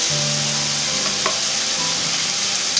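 Chicken pieces with spoonfuls of garlic paste and ginger paste sizzle and fry in a pan as samosa filling is made, a steady close frying hiss with some stirring and no talk.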